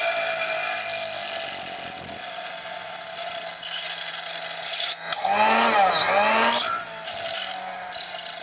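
A power drill whines steadily at high pitch, dipping briefly mid-way before its tone shifts and wavers as it grinds through glass from the reverse side.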